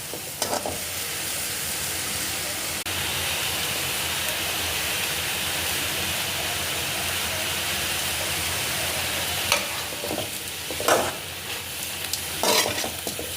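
Spinach greens sizzle and hiss steadily in a hot pan, a continuous close frying noise with a few louder stirring scrapes toward the end and no talking.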